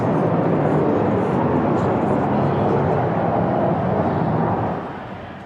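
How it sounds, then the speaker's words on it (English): Aircraft flyover above the Alliant Energy Center during a CrossFit Games event, a broad, continuous roar that holds steady and then begins to fade near the end. "Had what sounds to be a flyover here at the Alliant Energy Center"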